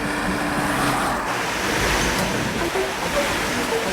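River water in Peru rushes and roars as a steady, loud broadband wash, continuous for several seconds, with faint tonal bits and distant traffic-like rumble mixed in.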